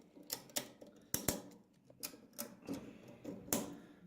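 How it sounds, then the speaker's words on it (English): Ratchet strap pulled tight with a handheld ratchet, a run of sharp, irregular clicking ratchet strokes close by with brief pauses between pulls. "Now, I can start ratcheting"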